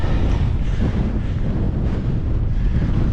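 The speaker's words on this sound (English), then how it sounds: "Very windy up here." Strong wind buffets a microphone on an exposed gritstone hilltop summit in the Yorkshire Three Peaks, a loud continuous roaring rush with no break across the whole moment.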